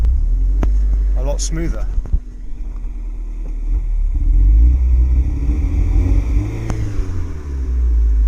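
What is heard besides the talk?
Toyota MR2 Spyder MK3 engine revving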